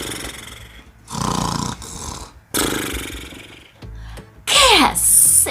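A storyteller imitates a dog snoring with loud, drawn-out rasping snores in repeated long bursts, ending in a whistling, high-pitched exhale.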